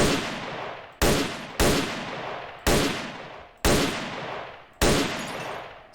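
Six loud, sharp gunshots from the video game S.T.A.L.K.E.R.: Shadow of Chernobyl, evenly spaced about a second apart, each cracking hard and then fading in a long echoing tail, with no talking.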